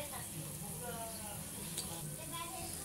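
Semolina and egg biscuits frying in a pan, a steady low sizzle of hot oil running throughout at moderate level, with soft crackles and a faint clink near the middle.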